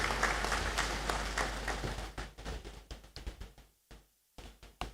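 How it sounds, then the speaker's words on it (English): Graduation ceremony audience in a great hall applauding, dense clapping at first that thins into scattered individual claps and fades to near silence before a few last claps. "Please welcome him with a round of applause."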